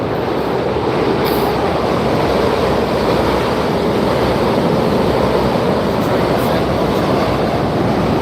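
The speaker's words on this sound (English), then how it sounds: "Sorry about the train." A loud, steady rumble and roar of a train passing close by, continuous and unbroken, with no voices heard.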